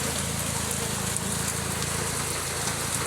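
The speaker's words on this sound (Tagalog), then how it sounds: "Sobrang lakas ng ulan dito." Heavy rain pouring down around a small hut, a dense, steady roar of drops on the surface, loud and unbroken throughout.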